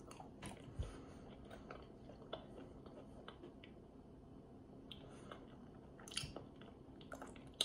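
Someone bites into and chews an ultra-thin crust uncured pepperoni pizza, giving close, crisp crunches over a steady low room background, with a few sharper snaps near the end.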